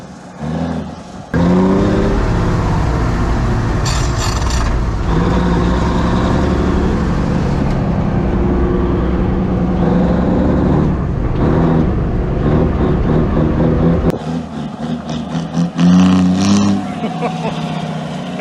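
A 1957 Hayes HD truck engine pulls hard through its gears, loud revving rising and dropping with each shift and a brief gap between gears, close by and steady.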